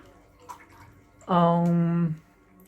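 Oil-painting brush being rinsed at a seascape easel, a short burst of sloshing, running water lasting under a second, loud and close after quiet moments.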